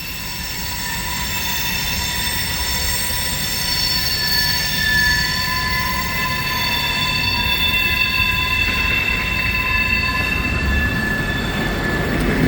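Freight train rolling past heading southbound on the Toledo Sub near Deshler, a continuous loud rumble of wheels and cars with sustained high-pitched wheel squeal throughout, close by and with no talking.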